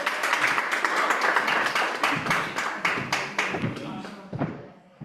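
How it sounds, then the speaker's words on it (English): A round of applause breaks out from the audience at a Black History Month cultural celebration event, lively clapping that starts dense and loud, then thins to scattered claps and fades away over about five seconds. "Round of applause, please"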